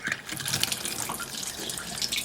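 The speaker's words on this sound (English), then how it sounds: "we're then going to turn the valve back on. Pressure's there and out the tap." Tap water runs steadily into a bucket after a leaking pipe is repaired and the valve reopened, a continuous close splashing gush with no talk.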